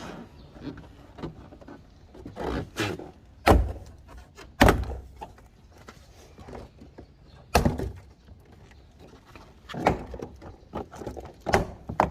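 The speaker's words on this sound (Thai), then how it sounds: "ก็ดึงแผงประตูนะ" A 2020 Honda City interior door panel is pried off by hand, giving a scattered series of sharp, close plastic clip pops and knocks with quieter rustling and handling between them, and no talking.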